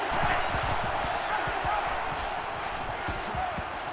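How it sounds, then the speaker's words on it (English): A stadium crowd in the NCAA 14 football video game roars continuously, a dense, loud wall of cheering with thumping impacts and a commentator's voice talking over it. "And this crowd is going absolutely crazy"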